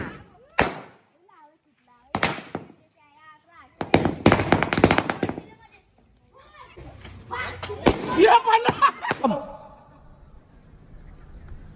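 Diwali firecrackers burst in sharp, separate cracks at an orphanage in Badlapur, then a longer crackling run, with people talking and calling out between the bangs.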